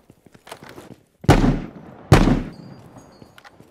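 Two sharp sniper rifle shots from the mobile shooter game Battle Prime ring out about a second apart, each loud with a decaying tail, after a patter of soft clicks.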